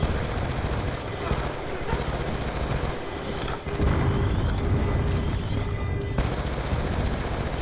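Sustained gunfire from the video game Call of Duty: Black Ops II, dense overlapping automatic shots and bursts rattling continuously at steady loudness with game background noise throughout.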